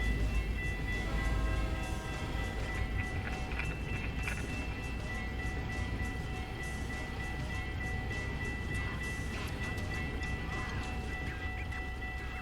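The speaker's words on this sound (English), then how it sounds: "I'm using Zeemods railroad crossing sound effects, so let's get those windows down and listen to it" Modded railroad crossing sounds play in American Truck Simulator as a Kenworth T680 waits in Idaho snow. A passing train rumbles steadily while crossing bells and a horn ring out clearly over the continuous rail noise.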